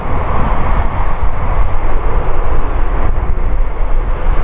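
An Airbus A380 airliner roars loudly at the Farnborough Airshow, a dense, continuous rumble of jet engines that stays strong and steady throughout.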